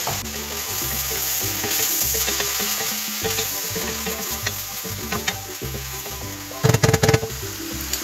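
Vegetables for ratatouille being stirred in a pan, a steady sizzling scrape with irregular knocks of the utensil, growing louder with a burst of clatter near the end, no talking.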